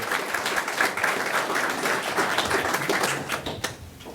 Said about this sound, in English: Let's have a round of applause for Colin Wells from South Point High School.